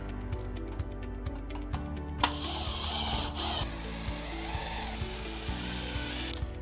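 A power screwdriver drives screws into a window frame, ratcheting in short buzzing bursts followed by a longer whirring run, close and loud with a sharp knock between.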